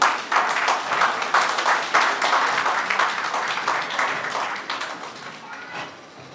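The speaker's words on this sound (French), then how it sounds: "Père Roger, Maman Micheline, sous vos applaudissements." Audience applause at a radio station's charity ambassador trophy ceremony: a dense, steady round of clapping from a crowd, loud and continuous for several seconds before easing slightly at the end.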